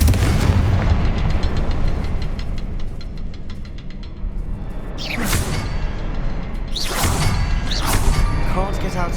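Confringo fire spells exploding in the video game Hogwarts Legacy on hard mode, with a rumbling battle bed and two sharp whooshing blasts in the second half, the later one louder, amid ongoing game combat noise.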